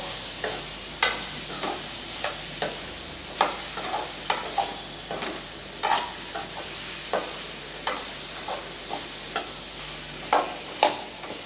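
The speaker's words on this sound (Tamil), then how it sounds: "இப்போ கத்திரிக்காயை ஒரு ரெண்டு நிமிஷத்துக்கு கொஞ்சம் கலர் மாறுற அளவுக்கு நல்லா வதக்கி விட்டுறலாம்" Brinjal sautéing in a pan for a spicy brinjal kara kuzhambu, steady sizzling broken by a regular run of spatula scrapes and taps, about one every half second, close and clear.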